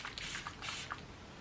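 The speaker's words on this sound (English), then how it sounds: "I use the Makeup by Mario setting spray. It's called like Surreal Skin Soft Setting Spray, and then I just take a couple spritz" A couple of quick spritzes of Makeup by Mario Surreal Skin Soft Setting Spray misted onto the face, short soft hissing bursts that are close and fairly quiet, with no talking.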